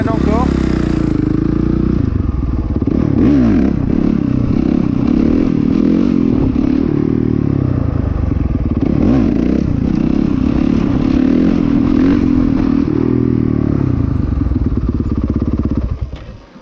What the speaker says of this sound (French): vous voyez que la moto elle prend des tours